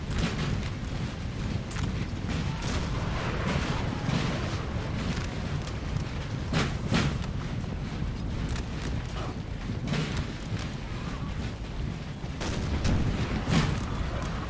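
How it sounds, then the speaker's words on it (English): Russian skirmishers fire in Napoleon Total War, scattered crackling musket shots over a constant low battlefield rumble, with occasional heavier booms. "Russian skirmishers have already started firing."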